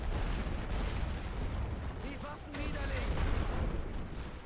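Artillery laying down a creeping barrage in the video game The Great War, a dense continuous rumble of distant booms rolling underneath, with faint voices talking over it.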